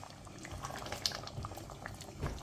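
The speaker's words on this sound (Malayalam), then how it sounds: "എല്ലാ ഇൻഗ്രീഡിയൻസും ചേർത്ത് കഴിഞ്ഞ് നല്ല തിളക്കാൻ തുടങ്ങിയപ്പം" Kerala chicken curry gravy with cashew nuts bubbles and simmers in a pot, a soft steady boil with scattered pops and small bursts, close and fairly quiet with no talking.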